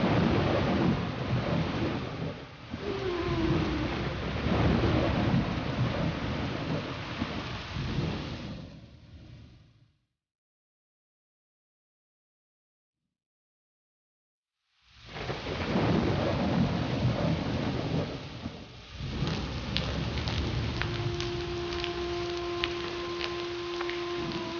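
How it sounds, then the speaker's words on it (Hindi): Heavy rain pours with rolling thunder, a dense hiss and deep rumble that cuts to silence midway and then returns with the same downpour and a sustained tonal whine, loud and close, with no one talking. "काफी वक्त के बाद बारिश हुई आज"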